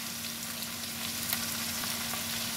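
Kundru (ivy gourd) frying with turmeric, red chilli powder and sugar in a pan, a steady close sizzle with soft stirring scrapes running throughout, no voices.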